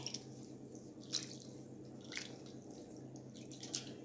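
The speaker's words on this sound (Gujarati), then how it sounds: "હવે આપણે આ પાણીને નિતારી લઈશું" Wash water draining from rinsed poha (flattened rice): quiet, close drips and soft wet squishes recurring every second or so over a faint background, with no talk.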